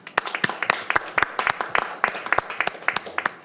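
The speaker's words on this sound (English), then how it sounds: "Let's give them a round of applause." Audience at a county council meeting applauding, a short burst of distinct, irregular claps from a modest group of people in a meeting room.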